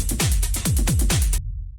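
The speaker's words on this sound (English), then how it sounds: "After that, I have the Saturator," Distorted techno drum loop run through a Saturator plugin for rave techno: a loud, heavy kick with pitch-dropping thumps roughly every quarter second under gritty, crunchy hi-hats, cutting off abruptly into silence.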